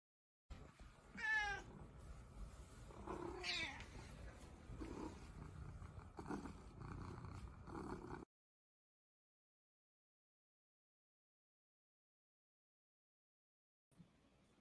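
Cat meowing with rising calls over a low steady purr, close and clear, for about eight seconds before cutting to silence.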